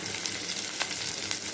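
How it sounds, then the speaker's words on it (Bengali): Onion and green chillies frying in a pan give a steady, close sizzle, with faint crackles and stirring scrapes over a continuous hiss. "পেঁয়াজ দিয়ে দিলাম, কাঁচামরিচ হালকা ভাজা ভাজা হয়ে গেলে"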